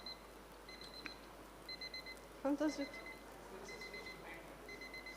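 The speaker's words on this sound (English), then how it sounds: "I have alarm." An alarm set for nine o'clock beeps in short repeated bursts, faint and thin, with a clearer electronic trill midway, while a person talks quietly nearby.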